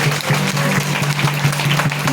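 Applause for brother Maurice at a Protestant church gathering during a patronal feast in Haiti, a steady crowd of clapping hands with rhythmic beats, loud and sustained with no speech over it.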